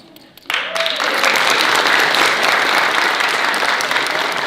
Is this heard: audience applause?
yes